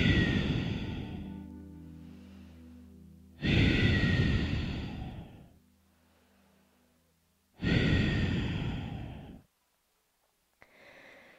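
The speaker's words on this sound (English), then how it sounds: "Breathe 3 times." Slow, deliberate breaths during a beginner yoga sun salutation class: three long, loud exhalations, each sighing out for about two seconds with quiet pauses between, close to the microphone and without talk.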